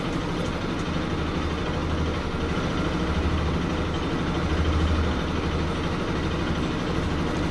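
A motorcycle engine idles steadily and close by before being shut off by a GPS tracker's remote command, a constant low rumble throughout.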